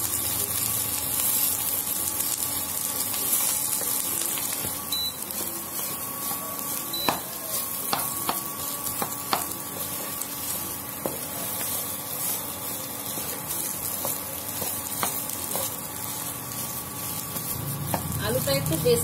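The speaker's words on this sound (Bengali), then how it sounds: "এবার আমি ভালো করে এই আলুটা ভেজে নেব" Potatoes fry with turmeric and salt in a pan, giving a continuous hissing sizzle broken by sharp scrapes and ticks of stirring over the whole stretch, with a faint voice now and then.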